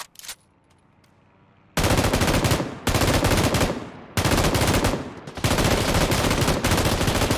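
Bursts of automatic gunfire in PUBG on Xbox One, a brief faint shot followed by four loud, sustained volleys separated by short pauses, with no voices.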